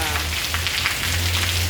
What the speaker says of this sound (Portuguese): Olha a chuva, Marília!